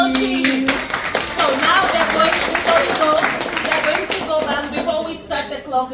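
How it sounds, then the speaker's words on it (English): Hands clap in a quick round of applause for a contestant at a Jamaica versus Nigeria cooking battle, a dense patter of claps filling the room with a voice speaking over it. "So round of applause for Mrs. Tochi."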